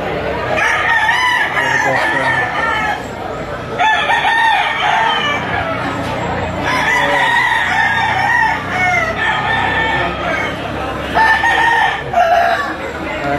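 Roosters crow repeatedly amid a busy chicken auction market in Lipa, several overlapping cock-a-doodle-doos and clucks rising over constant crowd murmur, fairly loud and close.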